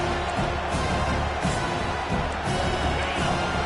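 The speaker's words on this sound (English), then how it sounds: "here comes the noise. This crowd is trying to inspire this defense to make a big red zone stop." A large stadium crowd at a football game roars in a dense, continuous wash of cheering and noise, steady and loud throughout, with faint announcer-like talk buried underneath.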